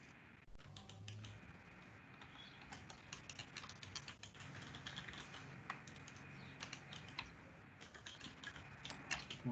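Rapid typing on a computer keyboard, a dense run of soft clicks and key taps at close range with brief pauses, against faint room noise and no voices.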